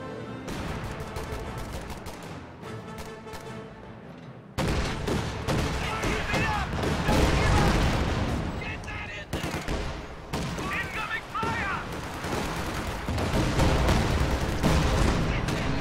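Allied guns firing in a WWII strategy game: a dense, continuous barrage of rapid gunshots and heavier blasts that grows louder partway through, with someone talking over the battle.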